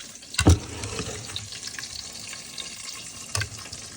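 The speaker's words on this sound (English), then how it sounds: "This is my tomato sauce, so I'm gonna go ahead and pour it right now" Tomato sauce poured into a hot pot while cooking jollof rice, giving a sharp splash and burst of sizzling near the start, then a steady low crackle of frying with a second brief flare near the end.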